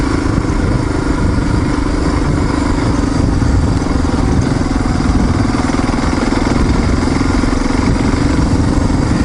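A motorcycle engine labours and bogs down in low gear while riding a loose cinder truck trail, a loud, close, continuous rough drone with no pauses.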